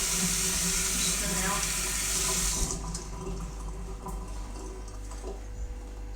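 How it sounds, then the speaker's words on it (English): Kitchen tap water runs into a sink while food is rinsed for a savoury mince and rice dish, a steady broadband rush that thins after a few seconds, with a low hum underneath. "So now I'll just rinse it out and just rinse it all off."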